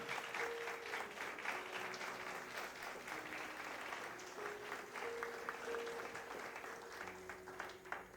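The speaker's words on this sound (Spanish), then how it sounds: "Dele ese aplauso a Dios." Church congregation applauding during a Spanish-language Christian sermon, steady clapping over about eight seconds with a faint sustained tone in the background and no talk.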